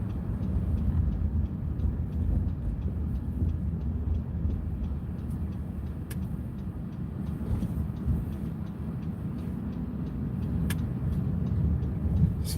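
Car driving on a road, heard from inside as a steady low engine and tire rumble with a few faint clicks, no talking.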